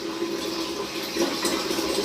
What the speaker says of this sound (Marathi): भरू दे थोडंसं पाणी